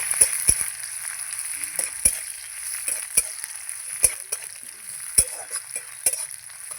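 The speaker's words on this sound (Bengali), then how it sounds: "পেঁয়াজটা দিয়ে দিলাম এবার নেড়ে নেব" Chopped onion sizzles and crackles steadily in a hot pan, with occasional sharp clicks and scrapes as it is stirred.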